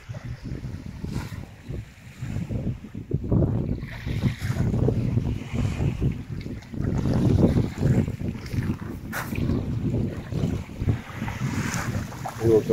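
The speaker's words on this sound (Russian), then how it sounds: "Вот такое чистенькое, красивое море." A calm sea shore at Vityazevo in October after sunset, with steady wind buffeting the microphone over a soft, continuous wash of gentle waves, with no voices.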